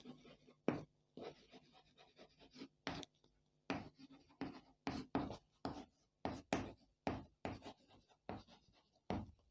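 Chalk strokes on a classroom board during a Class 10 trigonometry lesson, a steady series of short scratchy taps and scrapes coming close and fairly loud, with no talking over them.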